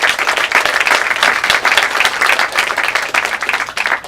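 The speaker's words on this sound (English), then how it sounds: "I want to give a big round of applause for all of the filmmakers who've been here" An audience at a film festival Q&A in Tacoma gives the filmmakers a loud, sustained round of applause, dense clapping that runs unbroken throughout.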